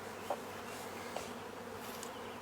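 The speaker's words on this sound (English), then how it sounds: "I see the bees are on it a lot, and especially bumblebees and butterflies like it" Bees and bumblebees buzz around comfrey flowers outdoors, a continuous soft drone with a couple of brief louder passes, faint and without talk.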